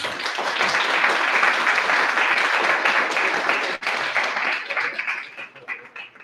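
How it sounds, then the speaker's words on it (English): Audience applause for the students at a debate, a dense, loud round of clapping that holds steady then tapers off into scattered claps near the end. "Whoever wants to give the students a round of applause can do that,"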